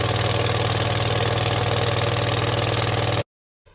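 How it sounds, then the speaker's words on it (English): A gas-powered air compressor engine runs loud and close at a steady idle with an even low thrum, then cuts off abruptly near the end into silence. "Let the compressor run for 1 to 2 minutes."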